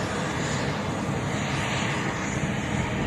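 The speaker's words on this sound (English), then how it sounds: "Bergie with the Mustang" A P-51 Mustang flying past at an airshow: a loud, continuous piston-engine drone that holds steady throughout, close and full, with no pauses.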